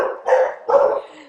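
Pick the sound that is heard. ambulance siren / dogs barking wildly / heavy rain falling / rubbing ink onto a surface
dogs barking wildly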